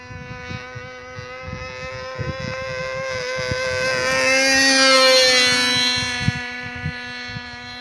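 A small engine on a Great Planes Patriot model airplane whines at high pitch, swelling louder as it passes close around the middle, then easing off, over low thumping background noise.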